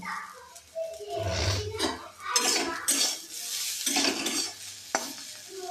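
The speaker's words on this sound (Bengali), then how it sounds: "যেহেতু সুজিটা পুরো ভাজবো ভাজার পর আমি চিনি দেবো" Semolina (suji) dry-frying in a pan, stirred continuously so a metal spoon scrapes and clinks against the pan over a soft sizzle, steady and close with occasional sharp taps.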